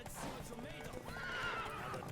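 A horse whinnies in the video game The Witcher 3, a drawn-out wavering neigh over a background of hoofbeats and game ambience, moderately loud.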